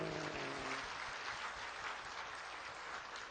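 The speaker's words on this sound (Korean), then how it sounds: "박수." A church congregation applauds during a Sunday sermon, a steady wash of clapping that sounds faint and distant, with no talk over it.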